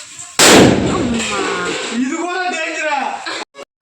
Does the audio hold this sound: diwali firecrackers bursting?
yes